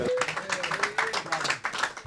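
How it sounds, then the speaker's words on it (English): Scattered clapping from a small group at a boxing post-fight press conference, brief and uneven, with a voice talking over it. "Round of applause."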